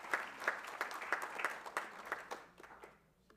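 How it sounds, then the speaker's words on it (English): A round of applause at a candidate debate, a small audience clapping in a brief, fairly quiet burst with distinct individual claps that taper off and fade out after about three seconds. "They deserve a round of applause."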